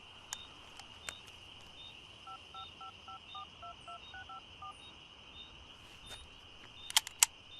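Telephone keypad tones from a number being dialled, a steady run of short regular beeps over a faint background hum, with a few sharper clicks near the end.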